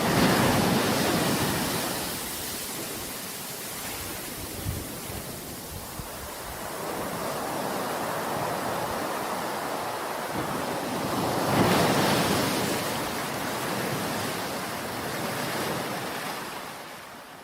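Sea waves surge and wash in steadily, a broad roaring surf with swells rising and falling over the whole stretch, mixed with wind, no voices.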